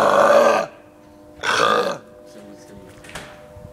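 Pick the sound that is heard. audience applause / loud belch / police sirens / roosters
loud belch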